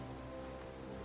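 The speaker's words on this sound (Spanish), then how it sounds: "me encanta que el sonido de fondo del menú principal sea lluvia" Rain ambience behind the main menu of the cooperative roguelike game Ship of Fools, a soft, steady, continuous hiss of rainfall with no talk.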